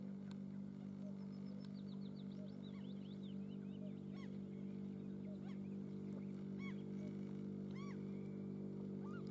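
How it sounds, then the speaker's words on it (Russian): Gulls call in scattered short cries at evening over the water, some distant and some nearer. They come through faintly above a steady low background hum. "Где-то там эти базарные чайки, блин, кричат."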